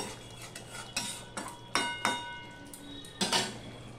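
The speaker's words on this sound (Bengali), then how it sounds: "বেশি ইয়ে করে তো ঘাটা যাবে না, এইভাবেই একটুখানি নেড়ে দিতে হবে।" A spoon stirs a vegetarian brinjal curry in a pan, scraping and clinking against the metal in a handful of short, distinct strokes, fairly close and quiet, with no talk.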